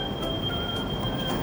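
Train in a Copenhagen railway station, a steady loud rumble of rolling stock with a sustained high metallic whine over it, close and continuous.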